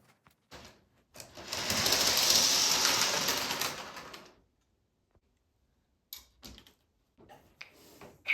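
An O gauge model train runs on its track, its motor whirring up, holding for about three seconds and fading away, followed by quiet gaps and a few scattered clicks and short mechanical rattles.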